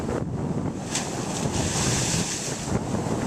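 Ocean waves surge and crash against rock at a blowhole on Grand Cayman, a steady loud roar of churning water with wind buffeting the microphone and no voices.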